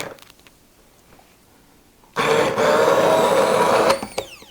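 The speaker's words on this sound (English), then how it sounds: "So my handy dandy immersion blender is being pressed into play." An immersion blender switches on abruptly and runs with a loud, steady whirring whine for about two seconds, then cuts off and winds down, following a quiet stretch before it starts.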